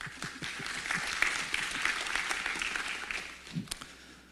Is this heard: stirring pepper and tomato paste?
no